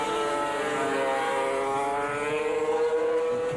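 Racing engines of 1987 500cc Grand Prix motorcycles roar steadily and loudly, a sustained high-pitched whine holding throughout as the bikes ride on past.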